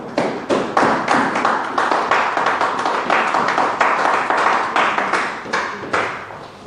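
A church congregation at a French Christian gathering claps together in a steady rhythm, the sharp hand claps close and loud and continuing throughout.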